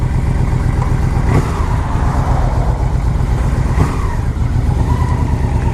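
On the road, a 2000 Yamaha Venture LE touring motorcycle gives a loud, steady engine rumble with wind rush, rising and easing slightly under throttle as it cruises, heard up close with no talking.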